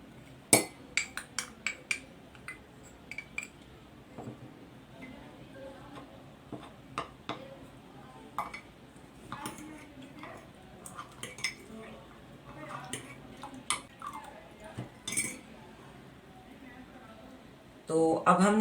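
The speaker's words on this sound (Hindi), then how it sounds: "कस्टर्ड को मिक्स करना है" A spoon stirs custard powder into milk in a bowl or glass, giving a long run of irregular clinks and taps against the sides, some sharp and some faint, with a louder clatter of handling at the very end.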